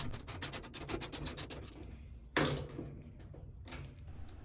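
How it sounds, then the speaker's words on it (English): Screws being driven into the back cover of a Whirlpool dryer with a 5/16 socket, heard as a fast run of close, rhythmic ratcheting and rubbing clicks, then a sharper scrape and quieter handling noises. "We'll be using our 5/16 socket for these two screws on the back cover"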